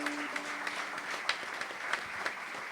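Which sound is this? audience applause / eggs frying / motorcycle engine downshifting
audience applause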